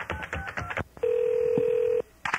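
A telephone line with a quick run of dialing tones, then one steady, loud ringback tone lasting about a second, ending in a click as voices resume.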